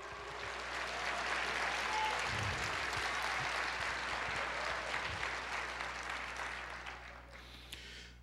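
A church congregation applauding during an Easter service, a sustained wash of many hands clapping together in a reverberant hall, steady for several seconds and then tapering off, with a low constant hum underneath.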